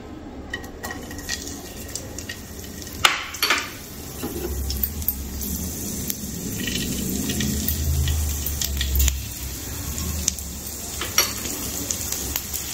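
Green chillies go into hot oil in a pan for a fresh pea filling, crackling and sizzling with scattered pops and utensil clinks, the frying swelling midway before settling.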